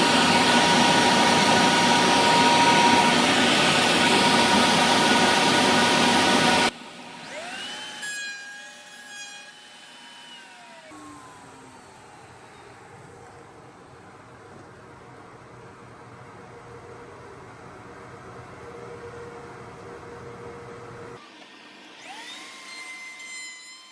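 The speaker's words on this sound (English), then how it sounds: "Obviously, I should have known that the router bit is spinning this way. It's going to scoop the dust out." A wood router hums and whines at high speed, loud and steady at first, then drops to a quieter, thinner running tone with a dust collection hose pulling air, a continuous broadband rush throughout.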